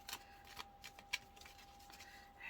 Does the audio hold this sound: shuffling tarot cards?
yes